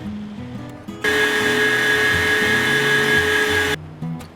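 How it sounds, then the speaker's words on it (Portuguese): An electric stand mixer whirs as it blends vegan ganache ingredients of cocoa powder, coconut sugar and cane molasses, a loud steady motor whine that starts abruptly, holds for nearly three seconds, then stops, with quieter background sounds before and after. "eu estou usando a batedeira e depois eu vou alisar o creme no liquidificador"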